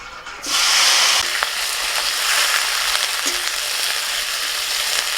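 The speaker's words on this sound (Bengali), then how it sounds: "মাছ ভাজার পর কড়াই যে তেলটা আছে ওই তেলের মধ্যে আমি লাউ শাকগুলো দিয়ে দিচ্ছি।" Bottle gourd greens dropped into hot oil left in a wok after fish was fried, bursting into a loud steady sizzle that settles into continuous close frying hiss.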